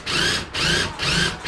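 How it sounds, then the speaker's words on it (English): A compact impact drill bores a hole for mounting a TV on a wall, running in three sustained whirring bursts separated by brief pauses, loud and close with no talking. "It's called an impact drill."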